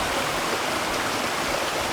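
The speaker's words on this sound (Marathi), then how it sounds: "तो वरून कडे आहे, त्या कड्यावरनं पाणी घेतं खाली." Water pours down from a cliff edge in a Konkan village at night, a steady, even wash of broadband noise with no breaks, close and moderately loud, heard on its own without any voices.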